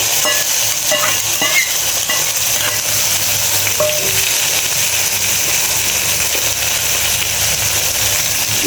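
Pabda fish sizzles loudly in a pan with onion, green chilli and coriander, a dense, unbroken hiss close to the ear with a few light clinks early on.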